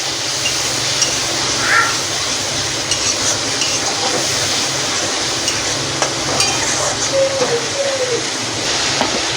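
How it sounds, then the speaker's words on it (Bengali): Coriander, cumin and turmeric powders fry with ginger paste in a pan while being stirred, giving a steady, soft sizzle that runs throughout at close range with no talk over it. "ধনে গুঁড়ো, জিরে গুঁড়ো আর হলুদ গুঁড়ো দিয়ে দিলাম, আর দিয়ে দেব আদা বাটা, দিয়ে ভালো করে কষে নেব"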